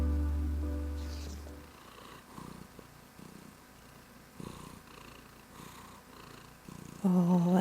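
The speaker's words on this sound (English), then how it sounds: "You got such a quiet little purr." A cat purrs softly and steadily up close, with a few faint rustles and a brief louder noise near the end.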